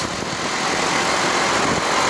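Motorbike engine carrying a passenger through busy four-lane Karachi traffic, a steady close drone blended with a continuous wash of surrounding road noise from other vehicles.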